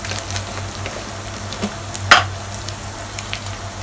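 Ground cumin, coriander and Kashmiri chili powder fry in oil with onion and ginger for a Bengali rohu fish yogurt curry, a close continuous sizzle with one sharp stirring scrape midway.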